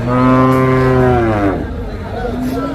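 Cattle lowing at a village livestock market, with one long loud close moo followed by a fainter second call over market background noise.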